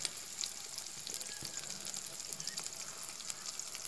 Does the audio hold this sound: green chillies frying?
yes